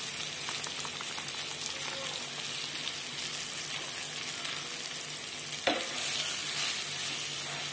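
Green chili mixture with coriander powder sizzling and frying steadily in a pan for a village-style chili dish, with light stirring scrapes and a brief clank midway, no talk.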